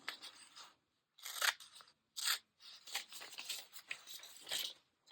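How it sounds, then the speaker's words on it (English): Scissors snip through a glossy magazine page close up in a quiet room, a series of short crisp cuts and rustles separated by brief pauses. "Let me cut this out."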